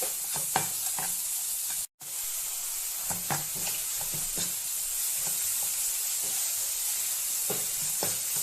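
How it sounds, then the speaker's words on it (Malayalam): A spoon stirs a dry sweet filling of grated jaggery, cardamom powder and nuts in a pan. The scraping and stirring is soft and steady, with faint sizzling and an even hiss underneath and one brief break, and nobody speaks. "നന്നായിട്ട് ഇളക്കി ഡ്രൈ ആക്കുക."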